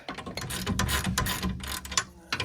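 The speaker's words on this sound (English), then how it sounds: "so we can start tightening it all down now" A ratchet tightens the nut on a VW Passat B8 rear coil spring, giving a few close bursts of quick metallic clicking with short pauses between them.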